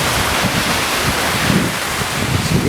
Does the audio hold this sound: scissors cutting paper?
no